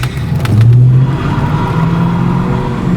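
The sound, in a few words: Fox Body Mustang revving with wheel spin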